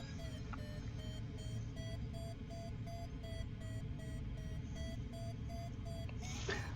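A glider variometer in Microsoft Flight Simulator, flying a Discus 2C on a cross-country flight, gives a rapid, even series of short electronic beeps over a constant wind and airframe rush.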